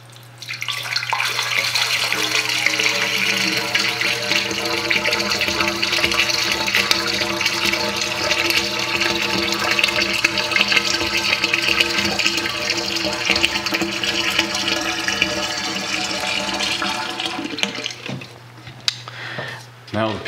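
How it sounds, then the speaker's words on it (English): Water runs steadily into a sink drain to fill the P-trap, a continuous loud rushing pour with a low hum beneath that lasts about eighteen seconds before cutting off. "Now the P-trap is full of water and we won't have any more smell coming up."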